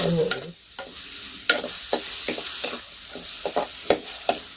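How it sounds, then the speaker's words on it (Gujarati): Ingredients roasting in oil in a pan for a sev chana vegetable dish, steady sizzle with repeated scraping stirs of a spoon at an irregular rhythm, close and alone without talk. "આ બધું છે ને શેકી નાખવાનું છે તેલને શેકી નાખવાનું"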